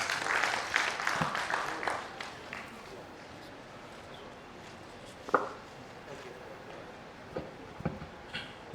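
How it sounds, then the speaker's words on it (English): Brief applause for the National President at an induction ceremony, a couple of seconds of clapping that fades into a quiet room with occasional knocks and bumps. "Please, again, a round of applause for him."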